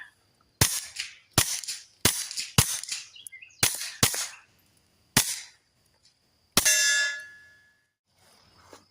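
A suppressed Kel-Tec P17 fires Warlock 2 subsonic rounds outdoors, with seven sharp cracking shots at an uneven pace. The final shot carries a ringing metallic ping from a struck target, and faint birdsong sounds between shots.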